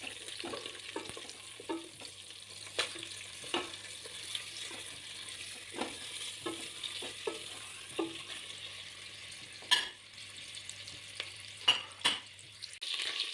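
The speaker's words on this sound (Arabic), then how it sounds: "قليت هذاك الدجاج في هذاك الليدام شويه باش يطلق الكو تاعو" Pieces of chicken fry gently in oil in a home kitchen pan, a soft continuous sizzle broken by occasional stirring scrapes and clinks.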